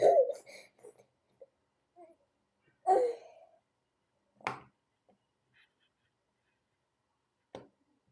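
A baby whimpers, cries briefly and babbles in short scattered bursts separated by long quiet gaps, heard close and fairly soft indoors.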